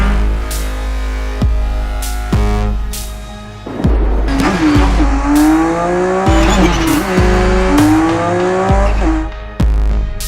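Race cars from a racing video game scream past in repeated loud engine passes with rising and falling pitch, short gear-shift drops and occasional tire squeal, with no talk.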